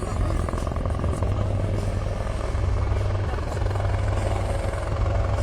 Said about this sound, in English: see para-commandos of 12 para-special forces being extricated by two Mark III helicopters of 204 Army Aviation Squadron, flown by Lieu